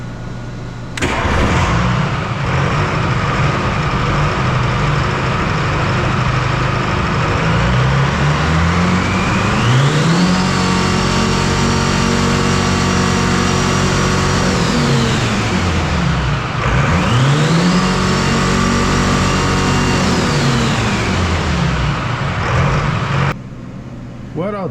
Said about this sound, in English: when I go full fuel, the engine revs up to 2800